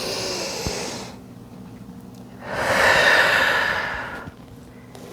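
A deep yoga breath during a restorative stretching session: a long airy inhale through the nose, a short pause, then a fuller, louder exhale, close and alone with no talking.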